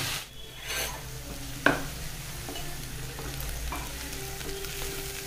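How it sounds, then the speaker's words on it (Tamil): Onions sautéing in oil in a pan for a Kerala-style lunch, a steady low sizzle and frying hiss with occasional stirring scrapes and one sharp clink, close and alone without talk. "பாருங்கள், வெங்காயம் நல்லா வதங்கிடுச்சு."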